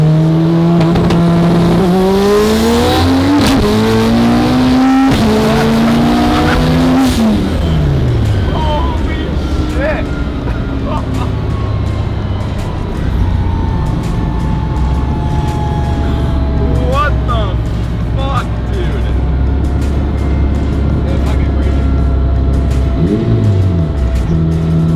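A 900-horsepower all-wheel-drive Honda Civic race car weighing about 2,200 pounds screams through rapid upshifts, its engine note climbing and dropping in hard pulls, loud and close from inside, with brief tire chirps and a sustained high-revving roar.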